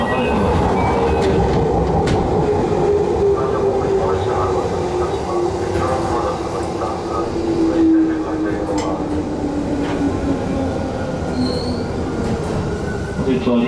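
A Sagano Line extra rapid train from Kyoto to Kameoka, heard from the cab, rolls steadily along the rails with a continuous rumble and a long, high wheel squeal that drifts in pitch, loud and close throughout.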